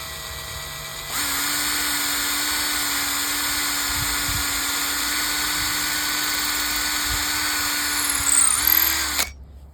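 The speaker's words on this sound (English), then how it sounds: "I need to drill the second hole" A power drill whines steadily for about eight seconds, close and loud, with a brief dip and rev near the end before stopping abruptly.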